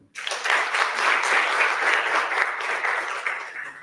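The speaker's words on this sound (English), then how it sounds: "Another strong round of applause to our ministers." Steady audience applause at a ministerial conference on adopting the IGAD child policy rises sharply and holds as a loud, dense wash of clapping for the whole stretch, with no talk over it.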